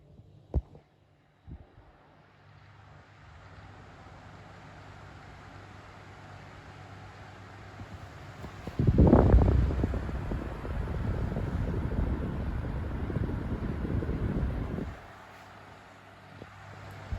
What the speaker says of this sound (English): If we run the fan, here's low.